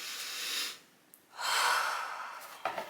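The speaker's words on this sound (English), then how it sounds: "Let's do a deep breath together" A slow deep breath in a cozy countryside home, a long soft inhale followed by a fuller drawn-out exhale, close and alone with no talk.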